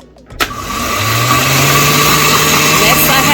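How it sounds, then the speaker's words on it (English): A blender whips garlic sauce (toum): after a sharp click, a loud, steady motor whir kicks in and runs continuously at an even pitch. "If you're using a blender like me"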